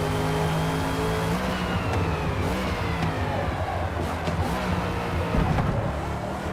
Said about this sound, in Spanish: Y escucha ahora el motor.